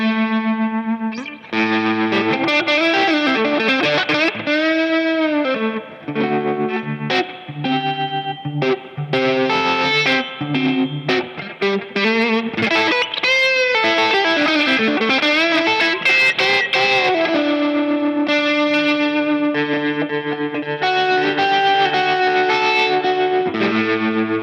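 An electric guitar with drive plays through an Origin Effects Revival Trem tremolo pedal set to a smooth sine-wave pulse, sustained notes and chords throbbing loudly and close with no talking.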